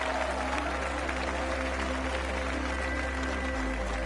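A video-game golf crowd at the Waste Management Phoenix Open, played on PS4, applauds a winning putt with a loud, dense, steady wash of clapping and cheering that lasts the whole time.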